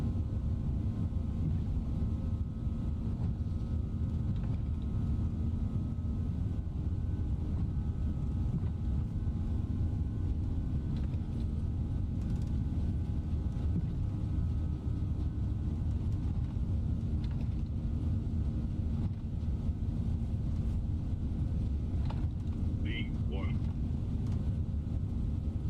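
Steady broadband roar of iniBuilds A340 jet engines spooling at takeoff thrust in MSFS 2024, a constant loud drone filling the whole stretch with only faint tonal whines above it.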